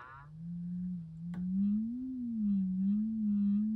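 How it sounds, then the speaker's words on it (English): A steady low sine tone just above 100 hertz hums from a Knight 98AE-184K electrodynamic loudspeaker with a rattle fault, wavering slightly in pitch, with one brief click partway through. "I'm generating a sine wave just north of 100 hertz."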